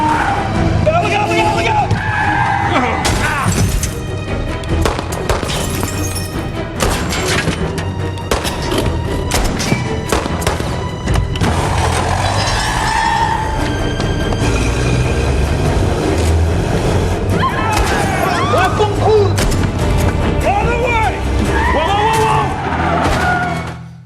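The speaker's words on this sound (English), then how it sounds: "The car chase actually goes on for many minutes more." Film car chase from Live by Night with tires skidding and engines roaring, a dense, loud continuous mix of screeching, thuds and crashes alongside orchestral music, with shouted voices in places.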